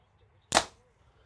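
A single sharp arrow release from a compound bow, a loud brief snap with a quick decaying twang, standing alone against quiet surroundings.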